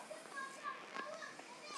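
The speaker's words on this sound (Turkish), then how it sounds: "bir tane çocuk bağırıyor şu an" Children shout and play in the background, distant and faint, a steady murmur of young voices with no single clear shout.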